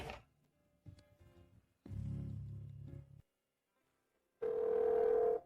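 A steady telephone dial tone sounds after a few brief muffled noises and handling sounds, the tone holding loud and constant at the end while a call is placed.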